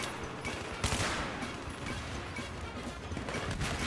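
Rapid automatic shotgun fire from a USAS-12 in the Battlefield 3 video game: dense, loud overlapping blasts pounding almost continuously for several seconds, with a heavier burst near the start.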